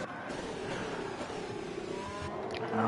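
A race car engine in a sim racing game, running at high revs on a fast lap through a chicane, a steady loud drone with shifting pitch over a few seconds.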